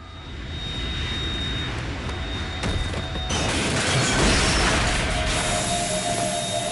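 Harrier 2 jet in the Metal Gear Solid 2 video game, on Extreme difficulty, as it is being defeated: a continuous roaring jet engine noise with a steady whine, growing slightly louder midway, with no talk.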